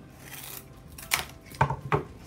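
Scissors cut through cardboard in a few sharp snips, one at a time, with the last two close together. They are crisp and close in an otherwise quiet room.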